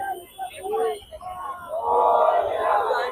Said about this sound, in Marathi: गर्दी केवढी बघा, जाम गर्दी.